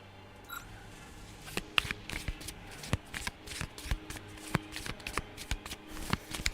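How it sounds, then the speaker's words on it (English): Pokémon trading cards being shuffled by hand, a close run of rapid crisp riffles and slaps that comes in irregular bursts, with occasional sharper clicks. "I'm going to shuffle that up while we're playing the game and take 10 cards off the top"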